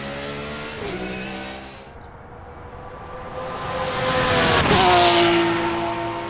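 A GT3 race car engine in a video game revs and shifts up through gears, with a high straight-cut gear whine rising and falling as it accelerates, loud and close.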